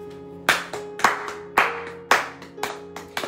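A church congregation applauds the Lord with a handful of sharp, loud hand claps in an uneven rhythm, each ringing briefly over sustained musical tones.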